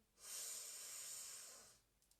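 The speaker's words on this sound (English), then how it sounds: "And breathe in." One long, deep inhale during a wall-based breathing exercise, a steady airy rush close to the mic, with no talk over it.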